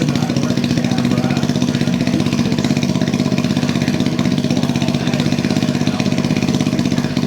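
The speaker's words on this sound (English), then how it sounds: "Now that we know the engine works" A 125cc dirt bike engine runs steadily and loud throughout, a continuous idling chug with a buzzing rattle, close to the listener and alone without talk.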